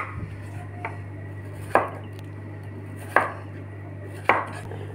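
Potatoes being cut into french-fry strips make sharp knife chops on a board, three or four distinct close strikes spaced about a second apart over a low steady hum.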